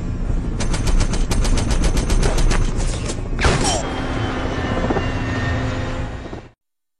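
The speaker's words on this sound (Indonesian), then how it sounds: "Bob kemudian menggunakan senapan lebih berat untuk menumbangkan helikopter yang mengincarnya" A helicopter's steady rotor drone runs throughout as a heavy rifle fires rapid bursts at it, loud and close, with repeated sharp shots in the first half and a final heavy blast before the sound cuts out in an action film scene.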